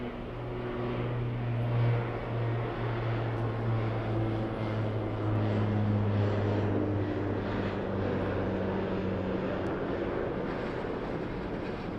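An empty airliner, likely a cargo jet, rotates early on takeoff at Birmingham Airport, with a loud, steady jet roar and whine that stays strong throughout and no talking.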